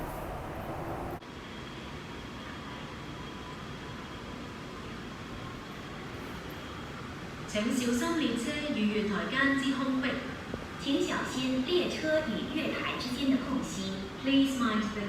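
Train pulling into Hang Hau Station on an urban metro platform, a rising rumble with squealing wheels and brake tones building from the midpoint, preceded by steady platform ambience, with faint talk in the background.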